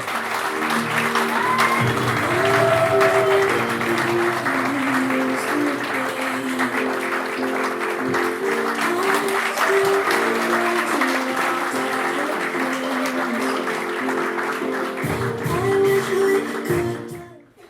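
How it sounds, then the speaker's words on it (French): Loud, sustained applause from a large conference audience in Paris, steady throughout with a surge near the end before cutting off. "je vous demanderai de faire un tonnerre d'applaudissements"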